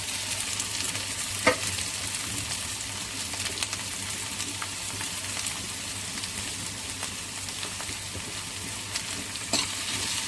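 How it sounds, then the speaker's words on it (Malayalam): Green chili, ginger and garlic sauté in a pan for chicken curry, with a steady close sizzle and occasional faint stirring scrapes throughout. "ഇത്രയും നമുക്ക് നന്നായിട്ട് വഴറ്റിയെടുക്കും"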